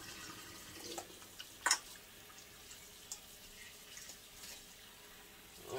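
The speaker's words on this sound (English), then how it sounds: "So I'm gonna go ahead and drain the water here" Rinse water drains from freshly washed lamb pieces in a kitchen sink, soft trickling and dripping with a few sharper splashes and clunks, fairly quiet and close, no talking.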